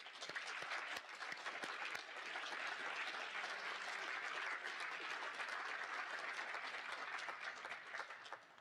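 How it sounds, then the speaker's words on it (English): Continuous, dense applause fills a high school equivalency graduation ceremony, with a crowd clapping steadily throughout and fading slightly at the end. "Let's give them a round of applause."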